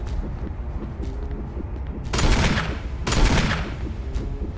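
Gunfire in the Resident Evil Remake game, two loud bursts of shots about a second apart over a low ambient rumble, no voices.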